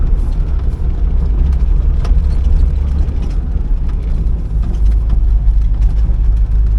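A 1979 Porsche 924 engine runs steadily and close by, a continuous low rumble with no speech over it.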